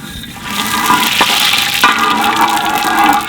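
Cinnamon and fennel frying in sesame oil for a capsicum goat blood fry: a steady, close, fairly loud sizzle and crackle that continues throughout, with no talking.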